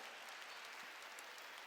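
A church congregation claps in a dense, continuous wash of many hands, faint and distant, with no voices over it.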